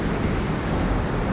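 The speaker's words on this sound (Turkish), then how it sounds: "Çok güzel bir nehir var." Steady, broadband rushing of a river flowing, loud and close, with a hissy wind-like wash and no voices over it.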